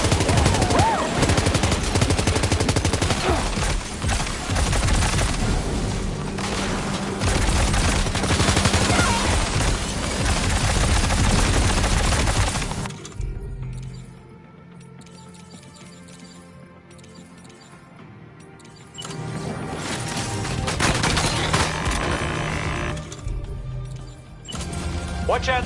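Heavy gunfire in the video game Death Stranding 2, dense rapid bursts of automatic fire that roar continuously for about half the time, then drop away to quieter ambience before resuming in louder stretches.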